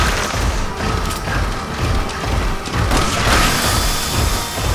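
Gunfire exchange in the Resident Evil 6 video game, a dense, steady barrage of loud booming shots and impacts filling the whole stretch with no let-up.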